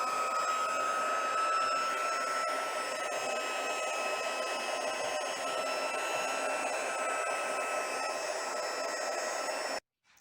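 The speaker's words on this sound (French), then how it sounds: "je vais prendre mon pistolet chauffant et je vais venir chauffer ici toute cette partie" A heat gun blows a continuous, even whooshing hum for nearly ten seconds while melting embossing powder on a greeting card, then cuts off abruptly at the end.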